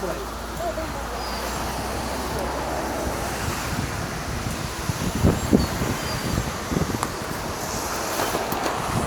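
Steady, cold wind roars across the microphone at Eunpyeong Hanok Village in Seoul, South Korea, a constant broadband rush with brief gusty swells midway, while faint voices murmur underneath.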